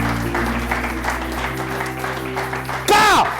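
A church congregation breaks into sustained applause and cheering over music, steady throughout and swelling louder near the end.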